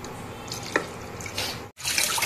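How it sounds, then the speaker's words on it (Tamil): Water poured into a pan of sautéed chicken biryani masala, a steady splashing pour with a sharper splash midway, a brief pause, then a louder rush of liquid, close by. "தேவையான அளவு பார்த்திங்கன்னா தண்ணி வந்து ஊற்றிக்கிறோம்."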